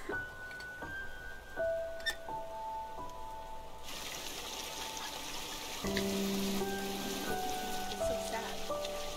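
Rain falling in the video game Hollow Knight: steady soft patter with faint drips and a few sustained musical tones, growing brighter and fuller partway through, quiet throughout.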